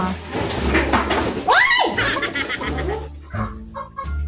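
A chicken clucks and squawks once, loud and close, amid people talking.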